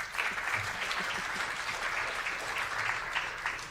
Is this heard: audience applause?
yes